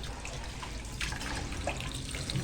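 Tap water runs steadily into a sink while something is rinsed under it, a close, even splashing stream with small shifts in the flow.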